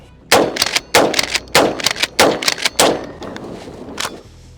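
An FN Tactical Police pump-action shotgun, based on the Winchester 1300, fires five or six loud, sharp reports in fairly quick succession, each followed by rattling pump-action clatter, with a fainter shot near the end.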